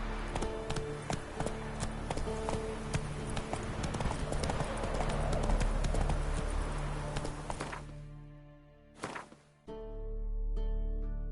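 Roach, a horse in The Witcher, gallops in a steady drumming clip-clop close by, the hoofbeats continuous for most of the stretch before slowing and stopping near the end, with a sharp thump and a low rumble after.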